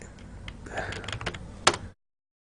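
Keystrokes on a computer keyboard entering a router command during a networking configuration lesson, a quick run of soft clicks ending with one sharper, louder tap, fairly close and with no talking.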